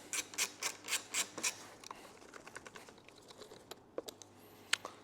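Undoing the 5mm bolts on a Yamaha MT 125 air filter cover brings a run of quick ratcheting clicks, then sparser, softer clicks and taps, close up and fairly quiet.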